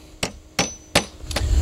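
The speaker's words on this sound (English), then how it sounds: "Take your hammer" A hammer taps a carriage bolt into the arm assembly of an Adirondack chair, giving four sharp, close knocks at roughly even intervals, the last two coming in quick succession.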